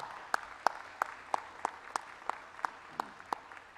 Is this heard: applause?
yes